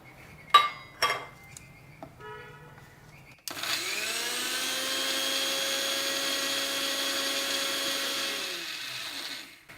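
A few light clinks and taps, then a mixer grinder grinding semolina starts and runs with a loud, steady whirring grind for several seconds before winding down.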